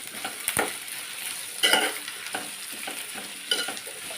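Sliced onions sizzling in oil in a pan while a utensil stirs them, with a steady hiss and several scraping stirs and clinks against the pan, close and fairly loud.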